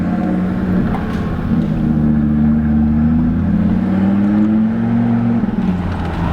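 A tuned car's engine revs loud and close, a sustained droning hum that rises and dips steadily without pause, with no talk over it.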